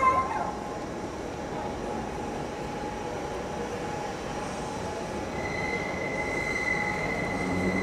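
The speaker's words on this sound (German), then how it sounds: "Und ansonsten sind es Straßenbahnen." A city tram (Straßenbahn) rolls steadily past with a continuous rumble and high wheel squeal that rises near the end, heard fairly close with no talking.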